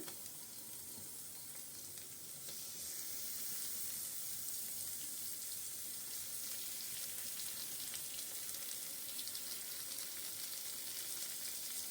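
Fish roe fries in a pan, giving a continuous soft hiss of sizzling oil that holds steady and fairly faint throughout, with no talking.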